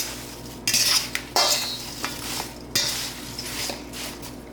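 A fork scrapes and clinks against a bowl while stirring sugar into apple pie filling, in several short, sharp bursts followed by softer stirring strokes.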